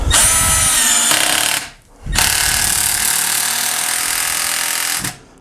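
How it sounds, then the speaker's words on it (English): Milwaukee M12 cordless screwdriver driving a fastener with its clutch slipping: two close, loud bursts of buzzing, ratcheting motor noise separated by a brief pause, with no voices. "So you can hear that clutch hitting in there, and it's slipping so that it doesn't put more torque into the fastener than you want it to."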